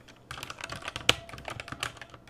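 Fast, uneven clatter of fingers on a computer keyboard, close and crisp, with one sharp louder key strike in the middle and no talking.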